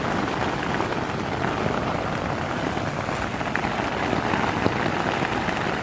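Heavy rain drumming on a USMC two-man combat tent during a storm, a dense, constant patter close overhead with no break and no talk.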